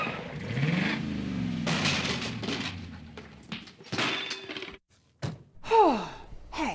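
A cartoonish crash-landing effect in a children's science adventure: a whooshing, engine-like descent, a thump and a brief silence, then a falling whistle and rumble, close and fairly loud.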